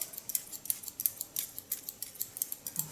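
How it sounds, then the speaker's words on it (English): Scissors cutting hair during a salon makeover: quick, light, crisp snips repeating in a steady rhythm, close and quiet with no talking. "about the noise of the scissor. It's a very relaxing sound."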